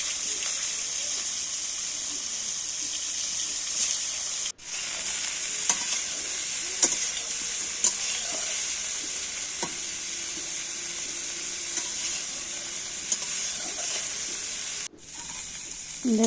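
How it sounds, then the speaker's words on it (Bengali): Cauliflower frying in oil in a pan, a continuous close hiss and sizzle with occasional stirring scrapes and clacks, sustained over a long stretch with two brief dropouts. "ফুলকপিটাকে ভেজে নিচ্ছি তেলের ওপরে দিয়ে।"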